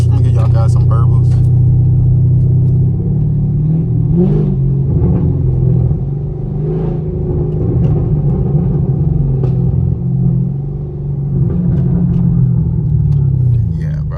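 A catless straight-piped Camaro SS roars along a highway, its deep engine rumble loud and close, with pitch rising and falling through revs while someone talks over it.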